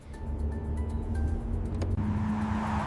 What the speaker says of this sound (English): We are driving to the zoo.